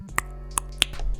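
A voice imitates finger snapping with the mouth during a beatbox session: three crisp, clicky snaps spaced about a third of a second apart, close and dry.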